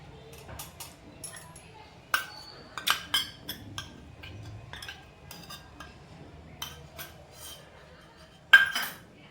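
A spoon clinks and scrapes against a metal pan while a milk powder mixture is stirred with ghee for kalakand, giving scattered light metallic taps and short strokes, one louder clank near the end, over a quiet background.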